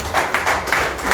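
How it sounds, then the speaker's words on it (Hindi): Audience clapping to welcome a new member joining a BJP party event in Jammu and Kashmir, a brief burst of steady, fairly loud applause from a group of people, with no talk. "तालियों से स्वागत किया जाए"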